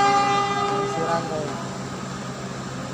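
A train rolls past with a steady rumble and a tonal horn blast fading out early, heard close and fairly loud without talk.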